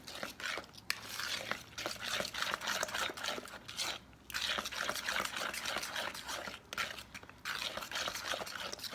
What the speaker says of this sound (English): After you get your eggs into the bowl, you're just going to whisk it all together